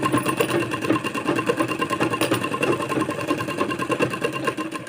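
A sewing machine stitches a pan-neck blouse design in a continuous rapid mechanical chatter, close and steady throughout, with no talking over it.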